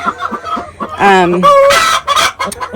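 Hens in a solar-powered chicken tractor on a homestead cackling loudly after laying eggs, close excited squawks and clucks rising and falling over a few seconds.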